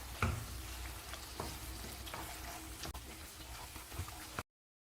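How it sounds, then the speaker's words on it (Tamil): Tomatoes and chicken sautéing in a pan for curry leaves chicken, a quiet, continuous sizzle broken by occasional spoon taps and stirring scrapes, then silence at the end. "தக்காளி, சிக்கனை சேர்த்து வதக்கிக்கலாம்."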